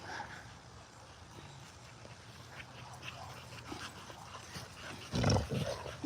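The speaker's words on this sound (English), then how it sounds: "Just hanging out with my dogs in the backyard, letting them play around before we start getting ready for bed." Dogs play in a backyard in the evening, with faint scattered panting, small whimpers and yips over a quiet outdoor background and a louder burst near the end.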